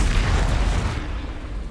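A Confringo blasting-spell explosion in Hogwarts Legacy, a single close, loud booming burst that decays over about a second.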